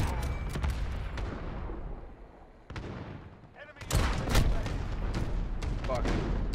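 Video game gunfire with a one-shot sniper rifle: loud booming shots and bursts at the start and again after a lull, with heavy crackling reports and a rumbling background.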